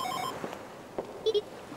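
A phone rings in short electronic trilling bursts at the start, followed by a few faint clicks and tones in a quiet bedroom.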